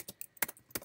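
Fingers tap a computer keyboard in a quick, uneven burst of four or five crisp clicks, close and with no other sound.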